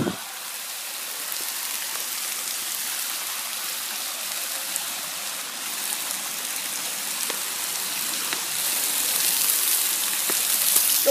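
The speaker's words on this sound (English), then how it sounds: "The waterfall." Waterfall on Monte Sano Mountain with a deep drop: a steady, broad rushing wash of falling water with no clear breaks, growing slightly louder toward the end.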